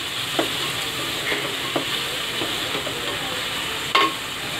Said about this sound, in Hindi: अदरक लहसुन हरा धनिया पुदीना सब ऐड कर रही हूँ इसमें।